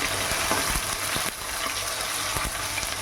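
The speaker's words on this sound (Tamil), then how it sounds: "இப்போது கட் பண்ணி வச்சுருக்கிற வெங்காயத்தையும் கருவேப்பிலையும் போட்டுக்கலாம். நல்லா வதக்கி விட்டுக்கலாம்." Onions and curry leaves sizzle loudly in a hot pan for a chicken curry, a steady close frying hiss broken by scraping stirs of a spoon.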